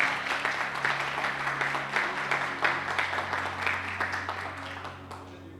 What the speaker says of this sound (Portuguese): pode aplaudir o seu irmão.